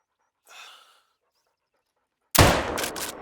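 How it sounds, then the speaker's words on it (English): A .44 lever action rifle fires in theHunter Call of the Wild: a soft breath, then a pause, then one sudden loud crack with a rumbling, ringing tail. "So I'ma use the 44 lever action rifle."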